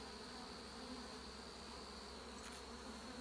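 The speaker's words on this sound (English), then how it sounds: "Bees are starting to come at me here" Honey bees buzz steadily around a hive during beekeeping, a dense continuous drone with a brief closer pass partway through, quiet and without voices.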